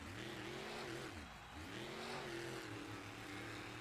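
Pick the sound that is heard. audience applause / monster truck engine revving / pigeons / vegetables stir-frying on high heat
monster truck engine revving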